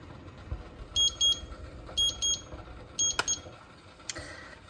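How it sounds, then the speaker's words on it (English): A kitchen timer goes off during jam canning with a steam canner, beeping in repeated pairs of short, high electronic tones, three double-beep groups in a row, moderately loud over faint room noise. "My timer has gone off"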